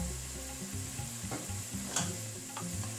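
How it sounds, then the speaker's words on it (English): Coriander, turmeric, paprika and cumin powders fry in a pan over medium flame, a steady close sizzle broken by a few soft spoon-scraping strokes as they are stirred. "Give it a good stir and make sure the flame is at medium heat at this point"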